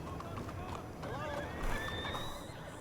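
Horse hooves clopping and a clear whinny in Red Dead Redemption 2, the neigh rising out of steady hoof beats and soft ambient sound, close and moderately loud, with voices nearby.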